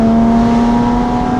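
A Porsche Boxster S with its roughly 267-horsepower flat-six, driven open-top, holds a loud, steady engine drone at a constant pitch throughout, close and dominant with no talk.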